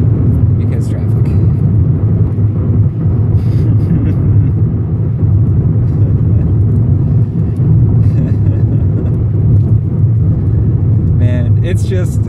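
A tuned Mk6 VW GTI with an APR K04 turbo upgrade drones and rumbles steadily from inside the cabin under hard acceleration, loud and continuous, while someone talks over the engine.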